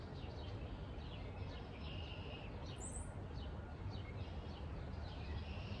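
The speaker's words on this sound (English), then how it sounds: "Listen to the birds." Birds chirp and sing outdoors in short, high, repeated calls scattered through the clip. The calls are faint and sit over a steady, low rumble of background noise.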